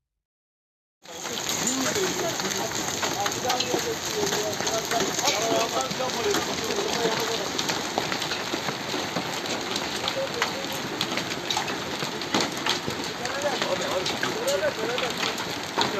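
Hail pours down steadily in a park in Karabük, a dense continuous clatter and hiss that starts suddenly and keeps up without a break throughout.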